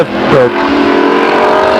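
Stock race cars racing at Stockton 99 Speedway in 1999, a loud close engine roar sweeping past with a rising then falling pitch, followed by a steady drone of the pack.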